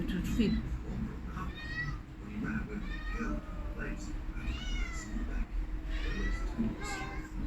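Several close, insistent meows from a cat at a village home in Mombasa come in quick succession, mixed with ongoing talk and children's voices nearby.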